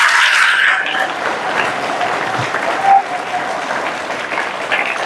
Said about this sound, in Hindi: सबको फिर से ताली बजाओ अपने आप से।